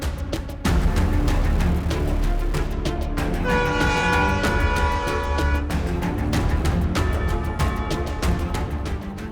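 A train crosses the Pamban rail bridge at Rameshwaram, with a loud steady rumble and rhythmic clacking of wheels over rail joints, and a horn sounding for a couple of seconds midway.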